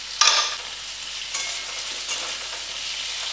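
Pumpkin and black chickpeas fry in a pan over medium flame, a bright burst of sizzling as they are stirred, then a continuous hiss with a few soft scrapes, no talking.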